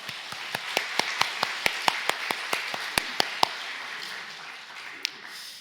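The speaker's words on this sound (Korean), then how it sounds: "하나님께 영광의 박수 올려드리겠습니다" Church congregation clapping, a quiet background of crowd applause pierced by a series of sharp, evenly spaced loud claps that stop after about three and a half seconds.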